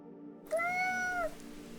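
A single drawn-out meow from a soaked orange cat, clear and close over a faint background hum, used as an audiobook sound effect.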